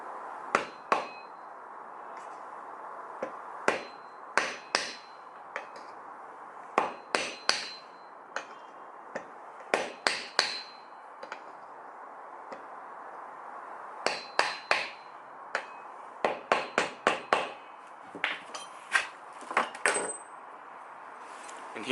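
Hammer tapping a serpentine belt bearing into place on a Nissan 240SX S13 with a 1JZ VVT-i engine, sharp metallic taps in irregular bursts and clusters, close and fairly loud over quiet background.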